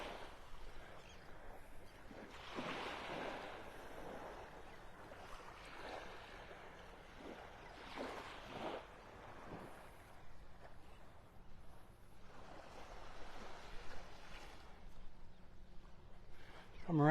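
Gentle ocean waves wash onto the beach at Pelican Bay in North Naples, Florida, on a Sunday morning. Soft surges rise and fall every few seconds, and wind buffets the microphone throughout.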